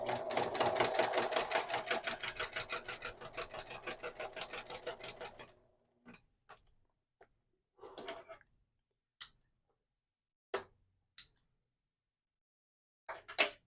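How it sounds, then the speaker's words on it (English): Sewing machine running a straight stitch with a wing double needle at a 4mm stitch length, a steady fast rhythmic whirring for about six seconds, followed by scattered light clicks and handling taps. "I also want to show you what it would do if you were just to sew a straight stitch"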